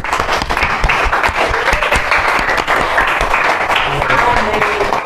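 Schoolchildren in a classroom give a burst of lively applause, dense sustained clapping filling the room for several seconds, with a few voices mixed in.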